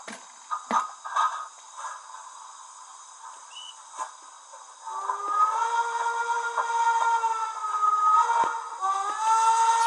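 A Lenz O gauge DB class 86 model steam locomotive with DCC sound hisses faintly, then a steady whining tone rises and holds as its equipment spools down, with small clicks throughout.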